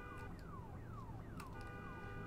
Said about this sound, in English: Let's turn this alarm off because it's very annoying.